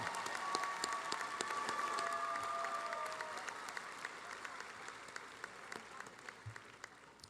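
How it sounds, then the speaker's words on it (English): Distant applause from a large crowd at a university commencement ceremony, a soft continuous patter that slowly thins out, with a faint voice heard through it. "one more round of applause"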